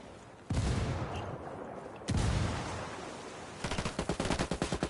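Enemy gunfire in the video game Ghost War: heavy bursts of shooting crash in at two points and then give way to rapid rhythmic automatic fire, loud and close with no talk.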